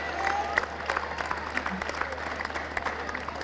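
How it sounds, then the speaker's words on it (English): Applause for the player of the match, Sajid Khan, at a Test cricket post-match ceremony between Pakistan and England, a steady crowd clapping at moderate volume with a faint murmur of voices underneath. "Applause all around and very well deserved"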